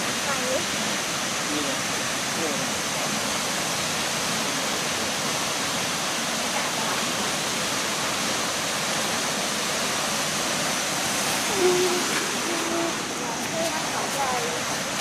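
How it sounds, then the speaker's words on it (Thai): Steady roar of a waterfall in a Thai national park, broad and constant rushing water, with faint voices occasionally audible beneath. "และเป็นน้ำตกที่มีชื่อเสียงระดับประเทศ"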